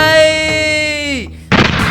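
A single sharp gunshot in a Hindi action film rings out near the end, right after a long sustained tonal cry, loud and close.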